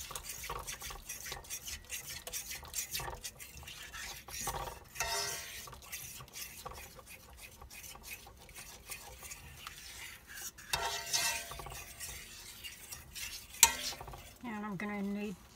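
Milk poured into hot sausage gravy in a pan, with a soft steady sizzle and repeated stirring scrapes of a utensil against the pan, close and moderately quiet throughout, with a brief sharper clink near the end.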